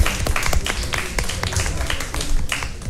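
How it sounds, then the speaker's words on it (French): Audience clapping at a pageant-style ceremony, with distinct individual claps in an irregular patter, fairly close and moderately loud. "Est-ce qu'on peut les applaudir?"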